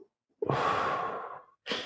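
One deep breath drawn in briefly, then a long, soft exhale lasting about a second, followed by the start of another inhale, close and quiet with nothing else around it.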